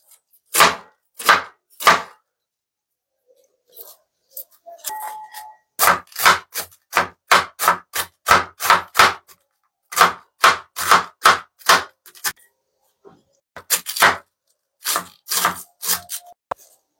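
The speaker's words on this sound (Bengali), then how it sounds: "দেখো আমার এক বাটি বাঁধাকপি কাটা হয়ে গেছে।" A knife chops winter cabbage on a board in close, crisp strikes. Short bursts of quick, rhythmic cuts are broken by brief pauses, and no one speaks.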